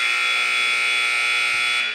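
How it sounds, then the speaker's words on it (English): A loud, sustained electronic buzzer sounds in a school gym at an 8th grade basketball game, one steady blaring tone holding for about two seconds before cutting off. "As you hear the buzzer"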